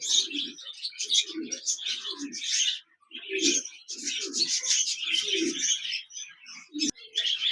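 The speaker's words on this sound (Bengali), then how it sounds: "খাঁচা নাম্বার ছত্রিশ এখানে দেখতে পাচ্ছেন একজোড়া বাজরিকার পাখি রয়েছে" A pair of budgerigars in cages chirps and warbles continuously and loudly up close, with rapid overlapping twitters and a brief lull midway, alongside low cooing calls from other birds.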